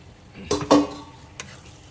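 Chicken curry masala is stirred in a pan, giving a few short, close scraping and clinking strokes over a faint low sizzle, with quiet gaps in between.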